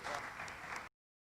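Steady applause from a church lecture audience, a dense wash of clapping at moderate level that cuts off abruptly after under a second.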